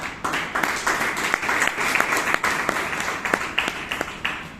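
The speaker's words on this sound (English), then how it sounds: "So I think the TMOD deserves a round of applause." A room of people at a Bangalore Toastmasters meeting claps for the session host, a sustained mix of overlapping hand claps with a few sharper close claps standing out, fairly loud and without speech.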